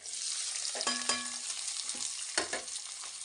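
Chopped onions dropped into hot oil with browned garlic, frying with a close, crackling sizzle while a spoon scrapes and stirs the pan in a few short bursts; no one speaks.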